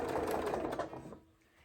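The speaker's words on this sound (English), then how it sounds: "when we top stitch on the pretty side, and we go in 1/8 of an inch" A sewing machine runs steadily as it top stitches an eighth of an inch in from the edge along the right side of the fabric, with a dense, even whirr. The whirr then fades and stops near the end.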